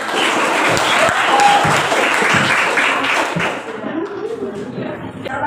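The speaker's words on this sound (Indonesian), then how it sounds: "Beri tepuk tangan." A religious congregation breaks into loud, sustained applause that thins out toward the end, with some chatter and light laughter mixed in.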